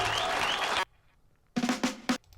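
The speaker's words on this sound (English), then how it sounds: "It's a reasonable reaction, but it's a begrudging applause, isn't it?" A short burst of half-hearted audience applause that cuts off abruptly, followed after a pause by a few scattered, isolated claps.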